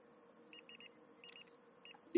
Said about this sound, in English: Beep, beep, beep, beep.